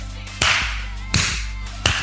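Three sharp hand claps, evenly spaced about three-quarters of a second apart, each crisp and loud with a short ringing tail.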